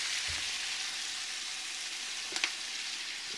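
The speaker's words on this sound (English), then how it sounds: "I'm going to stir fry these ingredients." Chowder ingredients stir-frying in a pan, a steady bright sizzle throughout with a brief scrape of stirring near the end, no talking.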